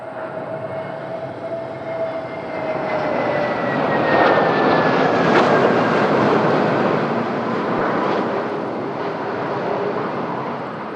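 A Wizz Air airliner approaches Madeira Airport in strong wind. A loud, continuous jet engine roar swells and peaks midway, with a whining engine tone sliding downward as the plane passes close by. No one speaks.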